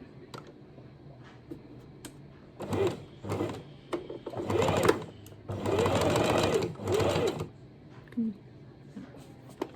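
Sewing machine stitching fabric in several close bursts of rapid mechanical whirring, the longest run lasting a couple of seconds, with quiet pauses between them.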